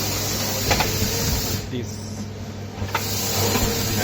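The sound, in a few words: Elgi air compressor running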